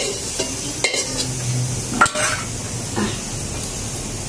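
Hot oil fries in a pan while poi saag is cooked, giving a steady, fairly loud sizzle broken by a few sharp scrapes and clinks of stirring.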